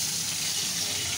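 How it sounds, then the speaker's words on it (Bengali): Pabda fish dropped into smoking-hot oil in a pan, giving a loud, steady, broadband sizzle that fills the whole moment without pause. "আমার তেল গরম হয়ে গেছে, ধোয়া উঠছে। এবার আমি মাছগুলোকে দিয়ে দেবো।"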